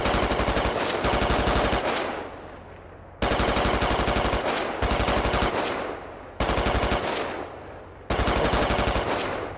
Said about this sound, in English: Sweep with your MG